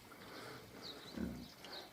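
A Hungarian Mangalica pig on a farm gives a short, low grunt midway through, faint and close, against quiet background noise.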